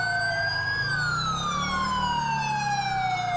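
Police car and ambulance sirens wail together in a convoy in GTA 5. Several loud, close tones sweep up and down, layered over a low engine rumble, with no talking.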